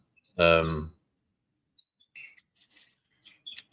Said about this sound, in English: The bird's going off.